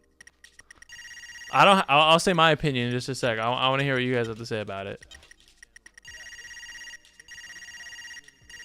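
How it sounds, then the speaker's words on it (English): A taunt in the Melee video game gives a loud, repeating electronic trill like a ringing phone, heard in bursts before and after someone speaks over it. "Sounds like a phone is ringing."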